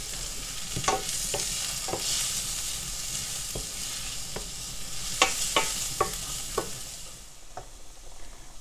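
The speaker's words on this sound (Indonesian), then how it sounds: "tambahkan merica sedikit. Kemudian aduk lagi." Onion and pepper for a Manado-style brenebon bean soup frying in a pan, with a steady sizzle under repeated scraping strokes of a spatula stirring, close and moderately loud, fading slightly at the end.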